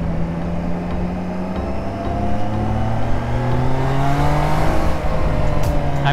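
A 660cc superbike accelerates on a mountain ghat ride, its engine note climbing smoothly in pitch as speed builds, loud and close with wind rush underneath.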